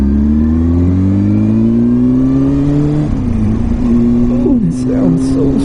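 Gold Honda CBR 600 sport motorcycle engine revving nearby: the pitch climbs in a long pull, drops, then jumps in short sharp blips, loud and close, in cool outdoor weather.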